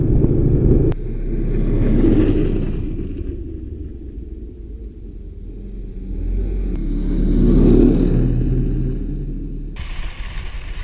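A snowmobile engine drones outdoors on snowy forest trails near Lainio in Finnish Lapland, its motor swelling louder twice as it revs and passes, then easing back between.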